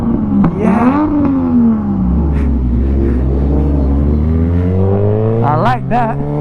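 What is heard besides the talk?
motorcycle engine revving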